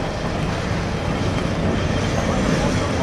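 A train rolls past close by in Lisbon, giving a loud, steady rumble of wheels on rails with a dense rattling texture that holds at an even level throughout, with no talking.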